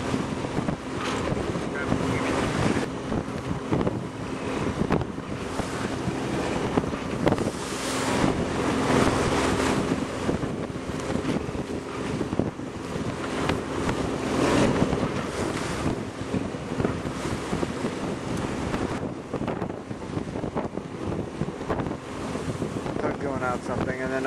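Strong wind buffets a sailboat underway on a warm 72-degree day, a constant loud roar of gusts over the microphone mixed with rushing water and waves along the hull, steady and unbroken throughout.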